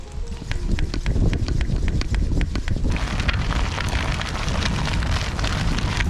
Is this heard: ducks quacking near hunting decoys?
no